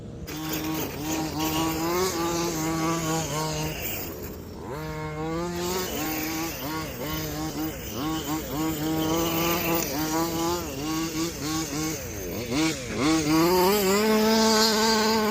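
Gas-powered large-scale RC trucks such as the Losi 5ive-T, Baja 5B and Kraton 12S rip through sand, their high-pitched two-stroke engines buzzing and wailing loudly as they rev up and down continuously with no talking.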